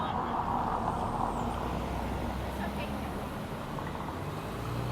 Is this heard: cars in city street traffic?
yes